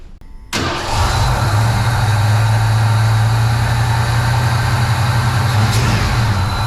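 A Ford F-150 truck engine cranks briefly, catches and settles into a loud, steady idle with a low, even drone that runs unbroken to the end, with no voices.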